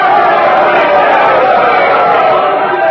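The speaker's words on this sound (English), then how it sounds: "The Queen is raising her hand to still the crowd" A large crowd cheers for the Queen in a radio drama about the defeat of the Spanish Armada, a loud, continuous roar of many voices with no pause.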